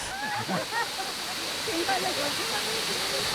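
Steady rush of flowing water from a waterfall in Tuguegarao, Philippines fills the scene, with birdsong chirping over it and faint voices in the background.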